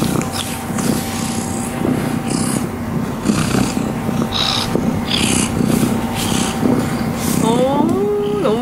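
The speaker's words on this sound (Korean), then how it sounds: "그러면은 골골골 소리 한번 들어볼까요?" A cat purrs steadily up close, a continuous low rumbling vibration that rolls on without pause.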